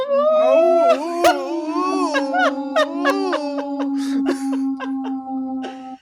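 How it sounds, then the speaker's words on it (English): A wolf howl sound effect rises and wavers in long sustained tones, layered with yips and shorter cries, loud and close for about six seconds before cutting off. "It's the wolf sound effect I could find"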